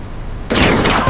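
Gunfire and artillery in a comic audio drama, a sudden loud burst of blasts erupting after a quiet moment and rumbling on.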